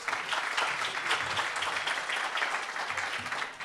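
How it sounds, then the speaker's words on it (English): Steady round of audience applause at a political campaign committee gathering, dense continuous clapping throughout with no speech over it, tapering slightly at the end. "Big round of applause."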